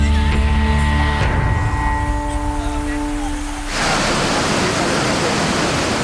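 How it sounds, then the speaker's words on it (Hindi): A powerful waterfall torrent pours during monsoon floods in Chamba, Himachal Pradesh, a loud, continuous roar of rushing water that fills the scene, following a brief stretch with a voice over it. "हिमाचल के चंबा में स्कूली बच्चे तेज झरने की धार से युद्ध करने को मजबूर हैं"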